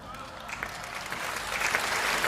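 Men in the audience at a Hindi poetry recital applaud in a steady wash of clapping that builds slightly toward the end, with no speech over it.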